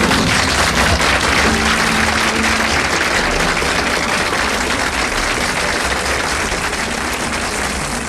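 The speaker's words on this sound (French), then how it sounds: "En vacances, apparemment ça a été applaudi" Loud, sustained applause from a live audience fills the air after a Raymond Devos comic sketch, dense clapping holding steady throughout and tapering only slightly at the very end.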